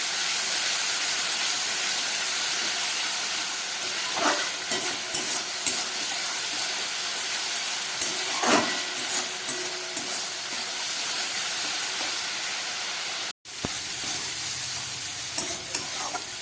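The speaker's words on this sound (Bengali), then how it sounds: "সব মশলাটাকে দিয়ে সামান্য একটু জল দিয়ে দিচ্ছি, দিয়ে আমি এটাকে খুব ভালো করে কষিয়ে নেব" A spice paste of ground spices and crushed black pepper, loosened with a splash of water, sizzles and spits in a pan while being stirred, with a brief cut near the end before the frying resumes.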